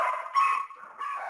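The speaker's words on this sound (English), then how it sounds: "Sounds like I have dogs attacking me." Dogs whimper and yip in thin, narrow-band bursts, as if carried over a telephone line, with two short swells of sound separated by a brief dip.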